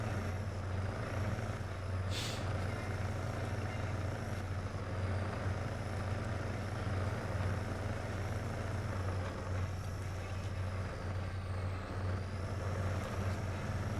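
A heavy truck crawls through rough terrain in a video game, its engine a steady low rumble with a brief hiss partway through and faint high whine above, continuous and close.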